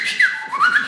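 A person whistles, imitating a plumber's whistle: two quick rising-and-falling tones in under a second, close and fairly loud, with no talk.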